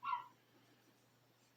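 One short, faint dog bark or yip in the background of a quiet indoor room, followed by low hum.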